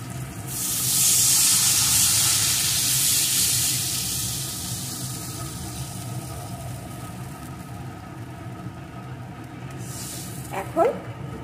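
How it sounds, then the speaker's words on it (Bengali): Water poured into a pan of fried potatoes sets off a loud burst of hissing sizzle, which eases into a lower steady bubbling and ends with a brief clatter. "এখন আমি এর ভিতরে পরিমাণ মতো জল দিয়ে দেব।"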